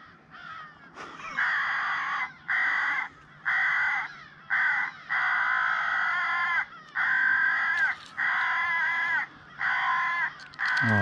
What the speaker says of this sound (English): Look at all these fucking crows.